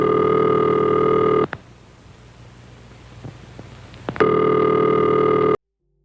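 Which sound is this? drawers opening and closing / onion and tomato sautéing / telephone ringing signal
telephone ringing signal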